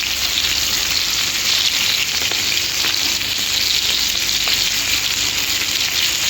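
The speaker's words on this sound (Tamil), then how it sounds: "இந்த மாதிரி எல்லாத்தையும் வறுத்து எடுத்துக்குவோம்." Fish fries on a tawa with a loud, dense, continuous sizzle like heavy rain, steady throughout and close up.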